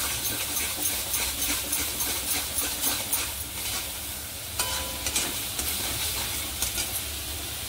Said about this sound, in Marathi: आता चांगलं तेल सुटायला लागले बघू शकता तुम्ही मसाल्याला.